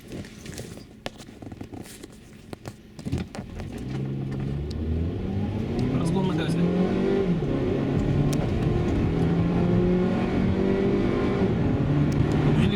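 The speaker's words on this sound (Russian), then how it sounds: "Посмотрим, как она едет на газе. Как обычно, разгончик." A Mazda CX-7 2.3 Turbo running on LPG gas pulls away and accelerates hard, its engine note climbing through rising gears from inside the car after a few clicks and knocks at the start.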